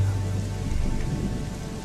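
Heavy rain pours steadily at night by a roadside tea-garden stall, a dense, loud hiss with low thunder rumbling underneath, and no voices.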